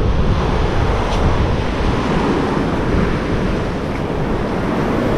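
Ocean surf at Porto Nassau beach in Barreiros, Pernambuco, on a rainy day, a continuous heavy roar of breaking waves mixed with strong wind buffeting the microphone, steady and loud with no voices.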